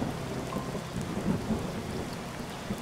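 Rain and thunder in the video game Thief Simulator, a steady hiss of rain falling on surfaces with low thunder rumbling underneath, fairly faint and continuous with no talking.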